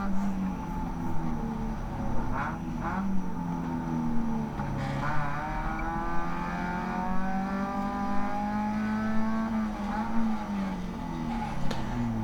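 Spec Miata race car engine at Barber Motorsports Park rising and falling in pitch through a hurried 2 to 3 shift, loud and continuous from inside the car during a NASA Midsouth race.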